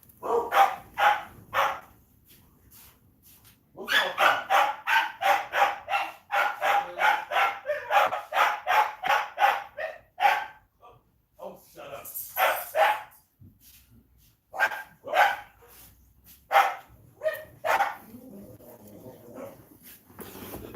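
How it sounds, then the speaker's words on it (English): Dogs bark at a mailman arriving at the doorstep, loud close bursts of rapid barking in repeated volleys with short pauses and a few yips, indoors and no talking. "the dogs are barking at the mailman"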